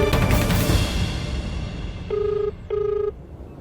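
A telephone rings unanswered in a TV drama, two clear electronic rings with a short gap between them, following a burst of dramatic music.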